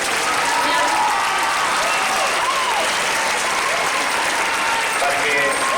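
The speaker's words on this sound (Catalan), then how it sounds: "li volíem donar un fort aplaudiment" Applause for a dance teacher at a Nou Barris community event, a dense, steady wash of many hands clapping throughout, loud and close, with crowd voices mixed in.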